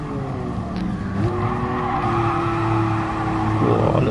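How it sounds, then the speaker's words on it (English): A Ferrari Dino in a racing video game drifts, its tyres squealing in a long steady sustained screech over loud engine roar, shifting in pitch once near the end and continuing with no talk. "Whoa, a little drift there."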